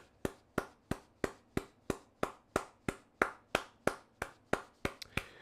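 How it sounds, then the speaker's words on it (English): A single pair of hands claps slowly and steadily, about three sharp claps per second, close and isolated rather than a crowd. "Can we get a round of applause?"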